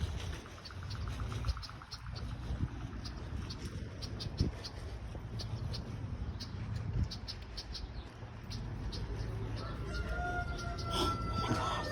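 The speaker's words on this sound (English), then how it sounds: "it's an actual rooster right there" A rooster on a farm crows and clucks amid constant insect chirping, the bird calls fairly faint against a steady outdoor background.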